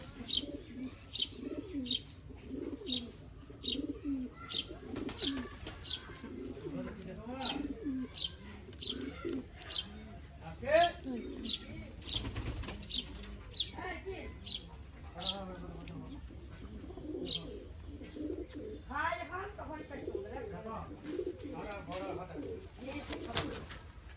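Pigeons in a loft coo in repeated soft, throaty phrases with scattered chirps, close and continuous, while a voice speaks intermittently over the birds.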